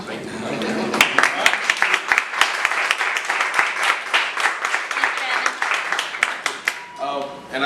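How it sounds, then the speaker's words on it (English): Audience applause and hand clapping at a foundation gathering, a dense sustained ovation with many sharp individual claps that fades near the end, with voices audible underneath. "Give you guys your own self a hand clap."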